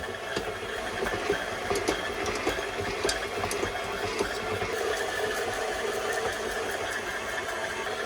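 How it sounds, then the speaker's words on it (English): A stand mixer kneading English muffin dough made with wheat flour, a steady motor whir with a rhythmic knocking thump as the dough slaps around the bowl, close and continuous with no speech. "You want to let this knead for about 8 minutes in your stand mixer"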